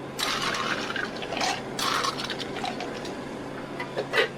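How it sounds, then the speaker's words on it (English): Ice rattles and clatters into a cup for a berry lemonade drink. The clattering runs steadily for several seconds, with a few louder crunchy bursts, close by and with no talking. "So now we're just going to add ice to fill the cup."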